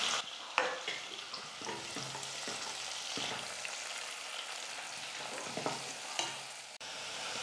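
Thinly sliced onions and curry leaves sizzle and fry in a pan for a Tamil bitter gourd curry, a steady close crackle with occasional stirring scrapes and no talking.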